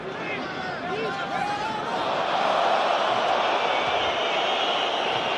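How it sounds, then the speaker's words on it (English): A rugby test match crowd, France against New Zealand, howls in a broad roar that swells and holds steady, with a commentator talking over it. "Crowd howling because they feel that Jerry Collins is offside"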